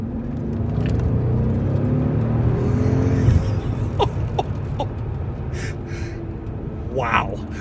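V12 Mercedes CL65 AMG accelerating hard, a deep engine roar building loudly over the first few seconds before easing off, with a person gasping and exclaiming inside the cabin afterward.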